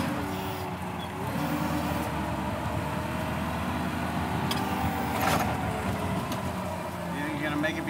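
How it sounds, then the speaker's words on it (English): A forklift engine runs outdoors as the machine is driven and steered into a narrow gap, giving a steady low idle-to-driving rumble that holds throughout, with voices heard at times. "We're gonna go put the forklift back so it's out of the sun?"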